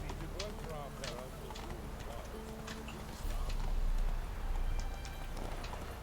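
Roach, Geralt's horse in the video game The Witcher 3, clip-clops at a gallop in a steady hoofbeat rhythm under continuous talking and game music, the hooves loudening midway.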